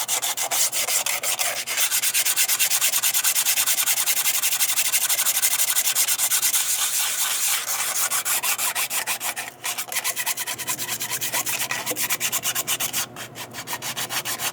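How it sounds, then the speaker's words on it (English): Sandpaper rubbed by hand across the metal deck surface of a 2004 Toyota Sienna 3.3 engine block during a head gasket replacement, a steady, rapid rhythmic scraping that continues nearly unbroken, close and loud, with no talking. "Then I get my sandpaper"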